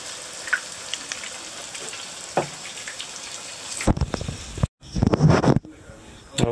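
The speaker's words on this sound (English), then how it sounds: "Frying beautifully." Catfish fries in a pan with a steady, close crackling sizzle, broken by louder bursts and a brief gap near the end, as if the pieces are being moved.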